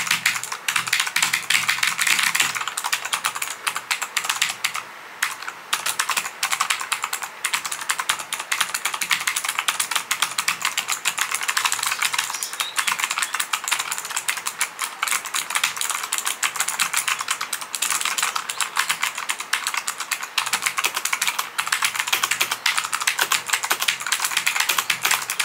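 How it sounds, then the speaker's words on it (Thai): Continuous, rapid clicky typing on a SteelSeries Apex 5 mechanical keyboard with blue switches, heard up close with no talking for the full stretch. "แต่ผมว่าบลูสวิตช์เนี่ยมันก็ถูกใจอยู่แล้วนะเสียงแบบ"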